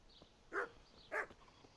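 A dog in the video game Kingdom Come: Deliverance barking twice, evenly spaced, fairly faint and mid-distance, over quiet ambient background.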